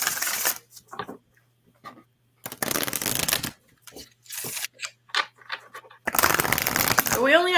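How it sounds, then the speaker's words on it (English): Tarot cards are riffled and shuffled by hand in several close, crisp bursts, with people talking in between. "we only have to shuffle once."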